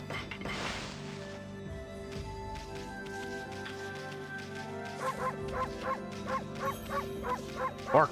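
Barking from the Okami video game, a series of short, evenly spaced yips over steady game music, getting louder toward the end.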